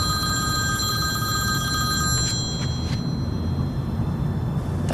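A telephone rings with a steady electronic trill for about two seconds and then stops, leaving a low room hum.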